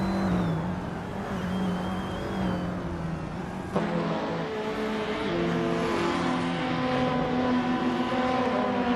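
A 2015 Fiat Tipo Competizione race car engine in a racing video game drones steadily and loudly throughout, with a sustained engine tone that shifts pitch partway through as other cars run nearby.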